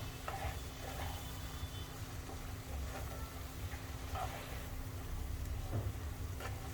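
Flour roasting on a low flame, a soft continuous sizzle with occasional light scrapes of a stirring spoon, fairly quiet against a low steady hum.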